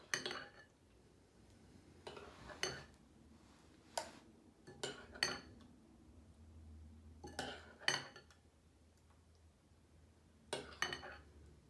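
A spoon scoops strawberry freezer jam mix into a one-cup measuring cup, making a series of sharp, irregular clinks and scrapes against the cup and bowl. The sounds are quiet and close, spaced a second or so apart, with no talking.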